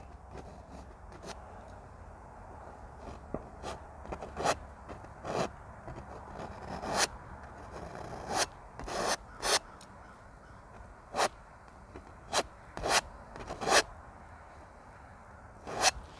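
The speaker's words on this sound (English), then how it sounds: "you can hear how hard I scrape on that canvas" A painting knife scrapes hard across canvas while roots of a mountain are laid in, giving irregular short rasping strokes, some quick pairs and some isolated, close and fairly loud over a quiet background, with no talking.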